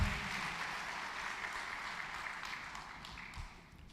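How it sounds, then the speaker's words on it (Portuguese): A church congregation claps together, a dense, steady wash of applause from a large room that fades slightly toward the end. "Eu quero que você dê uma grande salva de palmas ao Senhor"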